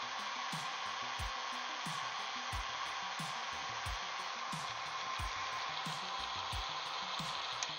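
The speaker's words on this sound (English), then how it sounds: "let me know if the hairdryer is too loud" A hair dryer runs steadily at a modest distance, its constant airy whoosh filling the background in a hobby painting session, with intermittent soft bumps and clicks from handling nearby.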